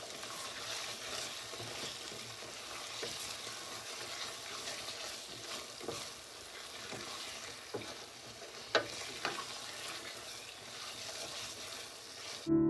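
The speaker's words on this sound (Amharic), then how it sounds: "አሁን በዚህ ላይ ዱባውን ጨምረዋለሁ። ዱባውን ደግሞ ትንሽ እናበስለዋለን።" Pumpkin pieces sizzle steadily in a simmering onion kulet base for Ethiopian fenugreek wot, with close stirring scrapes and a few sharp utensil knocks toward the end; no voices.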